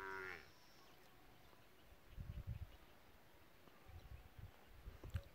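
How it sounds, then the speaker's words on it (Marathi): A buffalo calf moos on a farm beside green soybean and sugarcane fields, giving two low, fairly faint calls a couple of seconds apart, the second longer and broken into pulses, with no talking. "म्हशीचं वासरू ओढवतो आहे"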